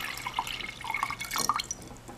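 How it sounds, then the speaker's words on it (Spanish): Water poured into a glass cup, a brief splashing trickle with small droplet plinks, close and quiet, no talk. "Añadimos a la copa un poco de agua."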